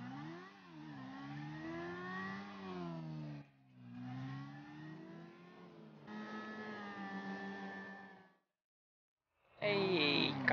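Motorcycle ridden in GTA V Online: a moderate engine note that rises and falls through gear changes in several long stretches, drops out briefly, then returns revving harder.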